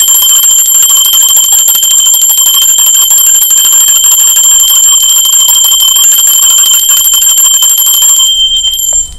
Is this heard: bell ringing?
yes